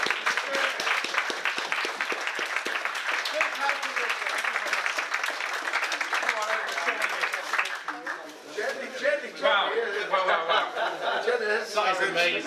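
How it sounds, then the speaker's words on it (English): Dense, loud applause from a room of diners at a UKIP Gloucestershire Christmas dinner at the Old Bell pub on Southgate Street, sustained for about eight seconds before thinning out under cheerful talk and chatter. "Big hand of applause"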